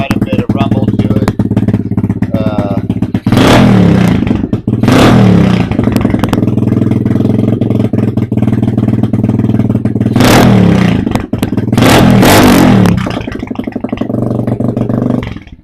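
A 2019 Apollo 125 motorcycle with an added rumble idles loudly and close, broken by four sharp revs that climb and drop back to a throbbing idle.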